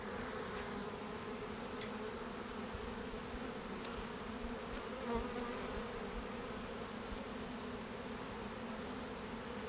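Honey bees buzzing in a hive during an inspection, a dense, steady close drone of many wings with no voices.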